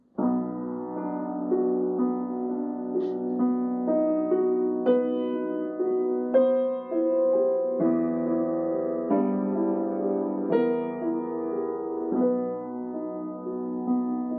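Piano plays the opening of the first movement of Beethoven's Moonlight Sonata with both hands together, steady flowing triplet figures over low sustained bass notes, soft and close with no voices.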